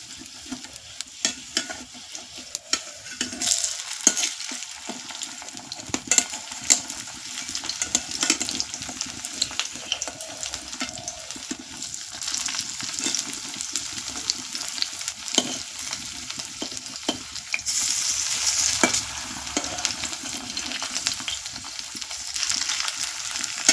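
Bora fritters fry in a pan while being stirred, making a continuous oily sizzle with scraping stirs and clinks throughout, close and fairly loud, and nobody speaks.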